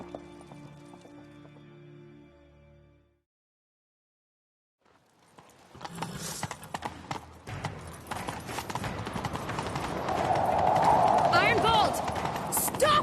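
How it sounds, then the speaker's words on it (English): Horses gallop in a chase in The Witcher 3, the steady clip-clop of hoofbeats building after a brief silence, loud and close with wind-like rushing noise. "Grab a horse, we'll chase him down."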